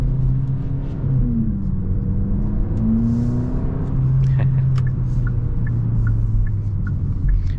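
A 2024 Hyundai Elantra N Line engine drones with a deep, throaty exhaust note while driving, the pitch rising and falling as it shifts through gears, close and loud.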